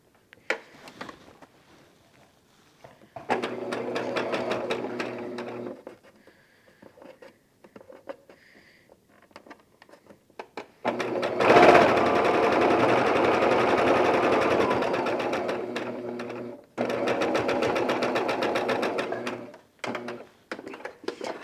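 Sewing machine stitching sashing strips onto a quilt block in bursts, a short run, a pause, then a longer steady whirring stretch and a final run, close and fairly loud with no talk.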